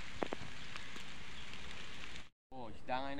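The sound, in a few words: rain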